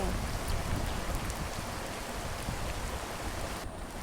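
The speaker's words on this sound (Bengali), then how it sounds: "বৃষ্টির সাউন্ড শুনতে পাচ্ছেন?" Dense, steady patter of heavy rain hammering a rooftop nearby, a continuous loud hiss with no pauses.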